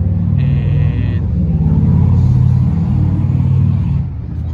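A Honda CB350F motorcycle engine, run without its silencer, idles loud and close in a deep, steady rumble, swelling briefly as if revved before settling back.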